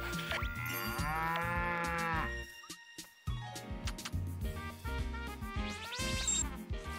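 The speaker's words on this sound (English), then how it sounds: "Come on, cow." A cow in the farming video game Story of Seasons: Pioneers of Olive Town moos twice, loud and drawn-out, with a brief quiet gap between the two calls and no talking.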